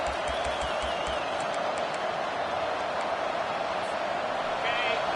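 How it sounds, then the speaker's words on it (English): Big stadium crowd at a college football game roaring in a steady, dense wash of noise, with faint whistles and a commentator's voice talking over it. "This crowd bringing the energy and noise early."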